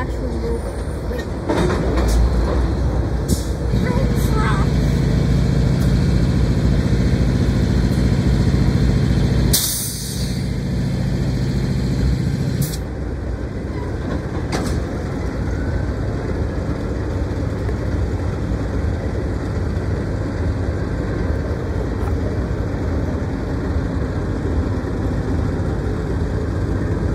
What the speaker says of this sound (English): BNSF 515 is actually moving